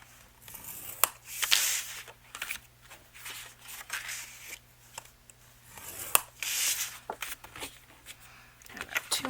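Thick scrapbook card stock being scored for folding gives quiet, uneven scraping and rubbing strokes, with soft handling rustles between them, all close and faint.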